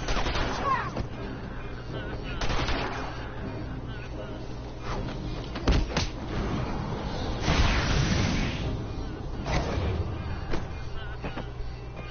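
Video game gunfire in Batman: Arkham Asylum, with steady, loud bursts of rapid automatic shots and sharp single cracks running through the whole stretch, and a voice heard now and then among the shooting.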